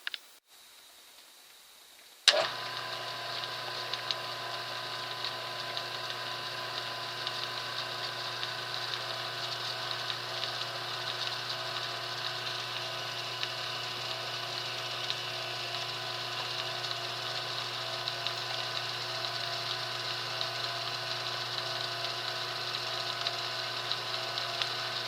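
After a brief hush, a lathe starts up and runs steadily, taking a light skim cut on brass from a boat shaft, a constant tonal motor hum and whine that stays even and close with no talk.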